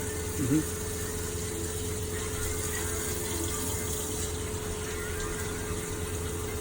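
The water tank pump of a 2019 Thor Freedom Elite 22FE motorhome running: a steady, faint mechanical hum with a constant tonal whine that goes on without a break, and a brief small knock near the start.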